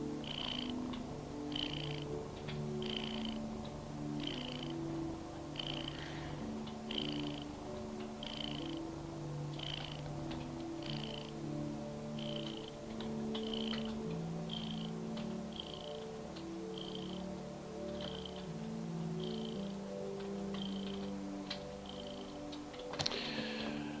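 A cat purrs steadily and close up in a quiet room, the soft rumble continuing for a long stretch with a regular rhythm and a faint click near the end.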